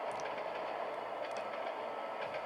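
An electric commuter train runs in Trainz Simulator 2, a steady, faint rumble of rolling wheels and motors with a few light clicks and no speech.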